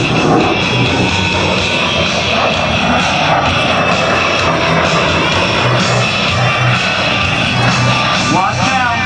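Jet engine roar from an A-10 attack aircraft performing an airshow demonstration, a loud, continuous wash of sound filling the whole stretch, with an announcer's voice running underneath.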